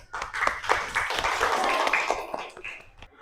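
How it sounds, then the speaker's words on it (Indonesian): A classroom group applauds group 1, steady hand clapping from several people that runs fairly loud and close for a few seconds. "aplaus buat mereka."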